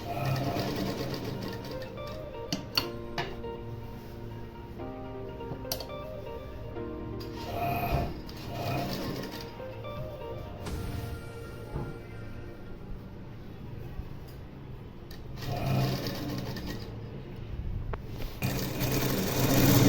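A sewing machine runs steadily for about twenty seconds, stitching pleats into the fabric of a small girl's skirt with a continuous close mechanical whir that has brief pauses and restarts.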